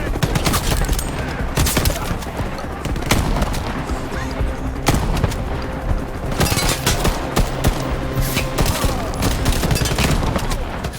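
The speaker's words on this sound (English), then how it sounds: "Let's try the shotgun." Shotgun fire in the online shooter Shatterline, dense bursts of heavy booming shots mixed with rapid gunfire throughout a chaotic firefight, loud and continuous.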